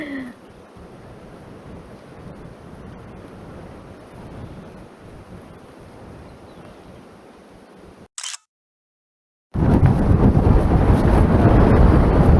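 Strong wind sweeps across the open, stony Kazakh steppe, a steady broadband rush buffeting the microphone, then a brief dropout to silence before the gusts return much louder and closer.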